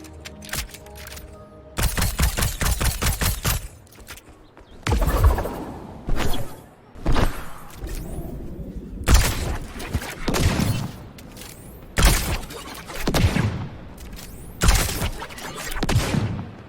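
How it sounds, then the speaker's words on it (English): Explosion sound effects in a compilation burst out repeatedly, loud broadband blasts and crashes arriving at irregular intervals with whooshes and gunfire-like crackle between them, no speech. "You can really hear the explosion sound effects around that, can't you?"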